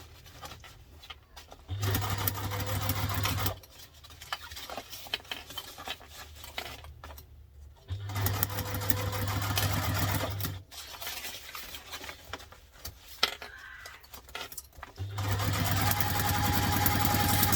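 A sewing machine stitches a seam on a lunch tote in three loud bursts of steady mechanical whirring, close by, separated by quieter pauses of fabric handling.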